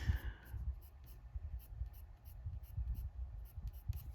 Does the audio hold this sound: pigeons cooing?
no